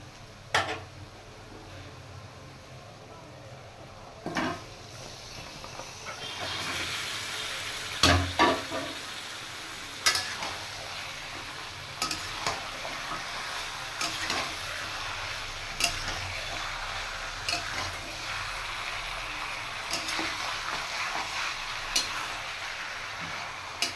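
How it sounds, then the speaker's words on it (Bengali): Marinated chicken tipped into a pan of fried onions bursts into a loud, steady sizzle, broken by scattered clinks and stirring taps, with no talking. "মেখে রাখা মাংসটা দিয়ে দেবো।"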